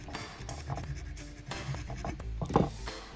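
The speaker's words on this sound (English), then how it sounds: "Brush that out, invert it," A small brush scratches through mohair and marabou fibers on a leech fly, giving soft, close scraping strokes in short bursts with a slightly firmer stroke near the end, no voices.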